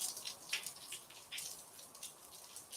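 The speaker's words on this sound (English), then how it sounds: "It's been raining hard here all morning." Rain falling outside on a wet morning makes a soft, steady patter with scattered brighter drips, faint and fairly distant, with no voices.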